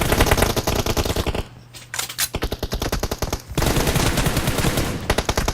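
Rapid automatic gunfire in the mobile battle-royale game PUBG Mobile, loud bursts of evenly spaced shots with a short lull in the middle before firing resumes at full intensity.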